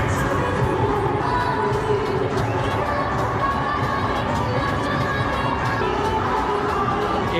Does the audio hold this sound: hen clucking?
no